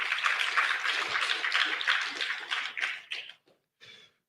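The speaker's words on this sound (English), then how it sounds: "Let's give them a round of applause." An audience at the Ghana-Bahamas Investment Summit applauds in a dense, even burst of many hands clapping that lasts a few seconds, then thins into a few scattered final claps before stopping.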